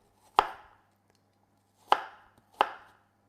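A knife slicing an apple into small cubes on a board: three crisp, close chops, the first alone and the last two in quicker succession, with no talk.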